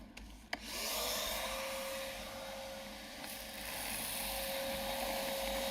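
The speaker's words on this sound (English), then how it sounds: "You would not see me out in the field using a little baby shop vac." A small shop vac is switched on and vacuums an epoxy floor, starting with a sharp click and settling into a loud, steady whine with a rising pitch, plus some rubbing of the nozzle along the surface.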